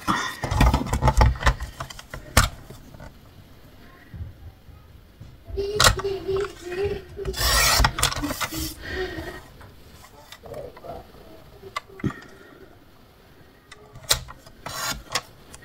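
Scraps of paper being cut for a scrapbooking card with kraft paper, giving intermittent close rasping and rubbing strokes in bursts, with quieter handling noise between them.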